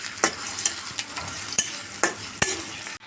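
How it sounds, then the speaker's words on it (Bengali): Chopped onion and a bay leaf fry in a pan for jackfruit curry, a steady sizzle broken by several sharp scraping strokes of a spoon stirring, close and alone with no talk. "পেঁয়াজটা দিয়ে তেজপাতা দিয়ে আমরা নেড়ে চেড়ে নিচ্ছি।"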